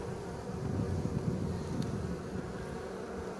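Honeybees on cleansing flights buzz steadily around the hive on a cold day, a dense close swarm hum with a faint wind wash and no voices.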